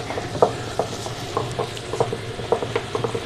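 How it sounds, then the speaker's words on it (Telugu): A wet grinder grinds soaked rice for dosa batter, a rumbling churn with repeated rhythmic knocks and clicks as the stone turns, close and steady with no talk. "ఈ విధంగా నానబెట్టిన బియ్యాన్ని కొద్ది కొద్దిగా గ్రైండర్లో యాడ్ చేస్తున్నానండి"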